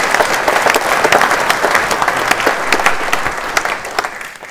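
Dense audience applause for author Tommy Wieringa at a Writers Unlimited Winternachten literary stage event, steady and fairly loud throughout with no voices on top.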